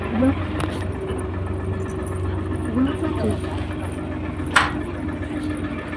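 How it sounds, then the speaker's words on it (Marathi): A farm tractor's engine runs steadily with a low, rumbling drone while riders sit at the back heading out to the fields, a continuous mid-level hum with one brief clatter near the end. "चला चालू झालं आमचं ट्रॅक्टर आणि आम्ही आता निघालो"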